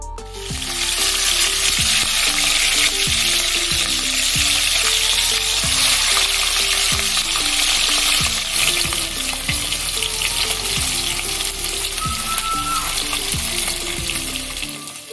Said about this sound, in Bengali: আমি একটা প্যানের মধ্যে যথেষ্ট পরিমাণ তেল নিয়ে নিচ্ছি এবং এর মধ্যেই আমি মাছগুলো ভেজে নিব